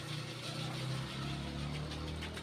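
A household water pump motor runs with a steady low mechanical hum and faint rattle, constant and close.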